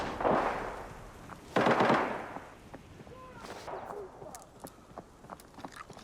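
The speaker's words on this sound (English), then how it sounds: "I heard a bot firing from a wheat field and incoming rounds from motel" Gunfire from bots and players in the shooter game Arena Breakout: two heavy bursts of shots early, then scattered quieter cracks and pops trailing off, with faint talk underneath.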